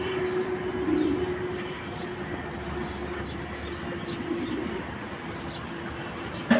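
Pigeons coo softly amid a low, steady background hum, with faint fluttering and no talking.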